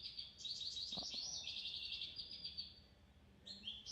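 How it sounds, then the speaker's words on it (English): A finch sings a bright run of rapid high twittering notes, close and clear over a quiet outdoor background, pausing briefly before a final short phrase. "That's the finch, and obviously that's a beautiful, that's what the songbird call, really enjoy that."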